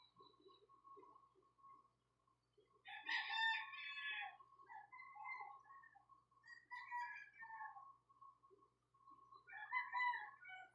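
Several roosters crowing in turns at a distance, with long drawn-out calls repeating over a faint steady hum.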